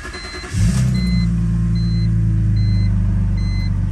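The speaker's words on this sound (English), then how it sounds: "You want to turn on your car." A BMW E46 with a Steptronic automatic fires up: a brief cranking burst, then a steady, loud, close idle rumble that holds to the end, with faint periodic electronic chimes sounding above it.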